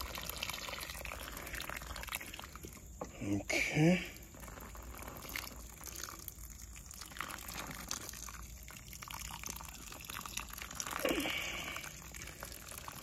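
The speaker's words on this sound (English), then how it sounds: "And then now I'm going to water it." Fig cuttings in pots get watered outside a garden shed. Two short bursts of splashing, pouring water cut through a faint outdoor background while a person speaks briefly.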